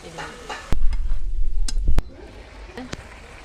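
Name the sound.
stirring hilsa fish in mustard paste in a pan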